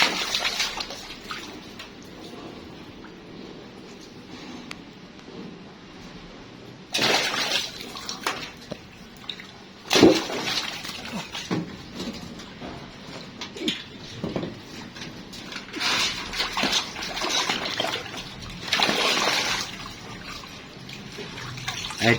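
A young rabbit gently lowered into a basin of water in summer, with intermittent splashes and sloshing bursts between quieter trickling and dripping, close by.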